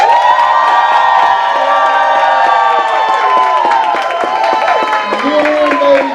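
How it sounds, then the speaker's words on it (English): A loud audience at a reunion event's popularity contest vote applauds and cheers continuously, with whoops, shouts and children's voices over dense clapping throughout. "let me hear it by an applause"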